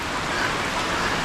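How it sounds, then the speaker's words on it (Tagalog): Steady rain falls outdoors in a rural area beside a creek, a dense, even hiss of drops hitting surfaces throughout, close and continuous with no voices. "may ulan naman"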